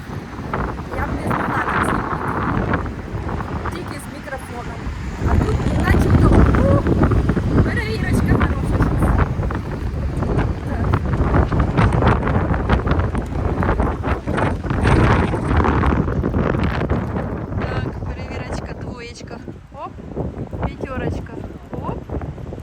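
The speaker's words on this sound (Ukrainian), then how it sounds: "Зараз вітер дує, дує, дує." Strong wind buffets an iPhone 15 Pro Max microphone in loud, rumbling gusts the whole time, with a voice talking faintly underneath.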